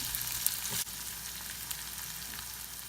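Onions frying with turmeric powder in a pan for a raw banana stir fry, giving a steady close sizzle with one brief louder rustle, with no voices.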